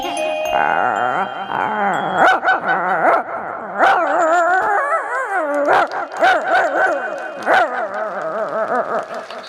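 A stage performer at a live show voices imitations of dogs fighting, with loud, continuous snarls, howls, yips and whimpers that rise and fall in pitch and never break for the whole stretch.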